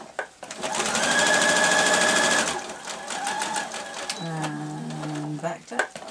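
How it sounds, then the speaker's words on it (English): A sewing machine stitches the shorter side of fabric lining for a knitting needle case, a steady loud mechanical whir for a couple of seconds followed by a short back-tack burst, with someone talking over it. "So I'll sew the shorter side together first."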